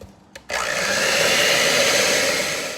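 An electric mixer starts up and whirs loudly and steadily, beating white cake batter as dry ingredients are worked in, a continuous high buzzing motor tone holding for over two seconds.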